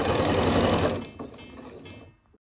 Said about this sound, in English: and sew all the way around.